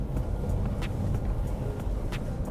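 A 2014 Toyota Agya G hatchback being driven through a handling test, heard from inside as a steady low road and engine rumble with faint tire noise, even and continuous, no talking.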